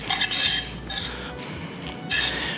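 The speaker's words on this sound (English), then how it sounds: "It's gonna mix, stir, toss, stir." Pasta carbonara stirred and tossed in a hot pan, giving a few close bursts of scraping, clinking utensil-on-pan noise with short quieter gaps between them.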